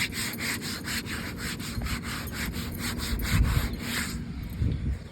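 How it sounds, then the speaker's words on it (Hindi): A rhythmic, gritty rubbing scrape repeats back and forth close by from a Maruti Suzuki car panel, like a hand rubbing a rough surface, with low thumps underneath. "इसमें से भी घिसने की आवाज़ आ रही है"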